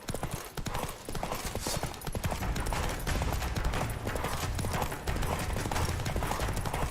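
Roach the horse from The Witcher 3 gallops hard, a loud, driving clip-clop of hooves filling the scene amid combat noise and brief bursts like gunfire, with a faint whinny.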